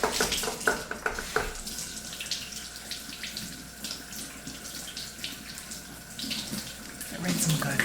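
Two kiwis are rinsed under running tap water at a sink, with a steady close rush of water and occasional splashes and handling noises that grow louder near the end.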